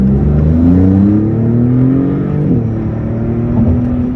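A 2022 Maserati MC20 sports car with a 630 hp engine accelerates hard, its loud engine note climbing steadily in pitch, dipping briefly as it shifts, then rising again close by.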